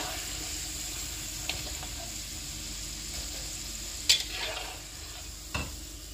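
Tomatoes frying in hot oil in a wok for a tomato sambal give a steady, even sizzle, broken by a few sharp clicks and spits of a utensil against the pan.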